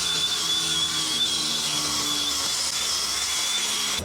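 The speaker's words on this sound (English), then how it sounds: "I'm just going to hit this with the wire brush to clean off any of that rust and debris" Steady, continuous high-pitched grinding and scrubbing of a wire brush cleaning rust off a 2015 Lexus LX 570 brake rotor, loud and close without a break.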